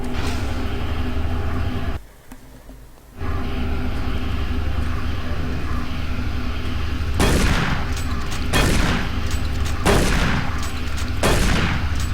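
Rocket launcher in Doom 3 fires several heavy blasts in the latter half, loud booms over a constant droning game ambience with a brief dropout early on, no talk.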